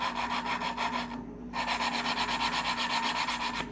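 Mojave 250 engine valve being lapped with a suction-cup stick: close, rhythmic gritty rubbing strokes with a brief pause before the scraping resumes at the same even pace.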